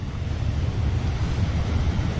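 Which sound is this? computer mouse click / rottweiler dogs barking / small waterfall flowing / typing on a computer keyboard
small waterfall flowing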